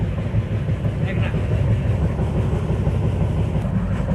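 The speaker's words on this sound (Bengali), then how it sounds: "আমাদের ট্রেনটি আস্তে আস্তে আবার দ্রুত গতিতে চলতে শুরু করেছে" Passenger train on the Howrah to Bangalore route running at speed, heard from inside the carriage as a steady, loud low rumble that fills the whole stretch, with no clear breaks.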